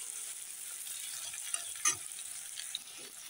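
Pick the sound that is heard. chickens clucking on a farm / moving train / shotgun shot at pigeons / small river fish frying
small river fish frying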